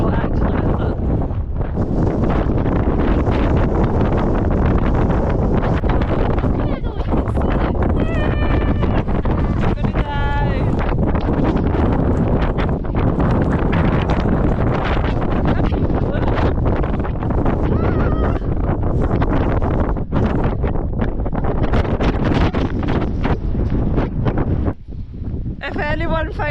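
Strong, roaring wind buffets the microphone at a volcanic crater in Iceland, continuous and loud throughout, with people's voices faintly mixed into the gusting noise.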